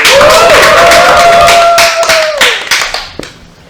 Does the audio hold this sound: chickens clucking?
no